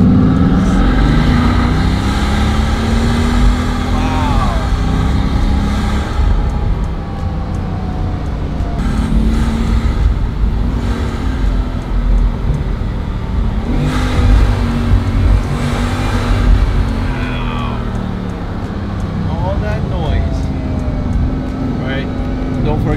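A 1200-horsepower Bugatti supercar on wet roads, its engine droning and surging as it drives, heard from inside the cabin as a loud, steady rumble with rising revs, while a person talks over it.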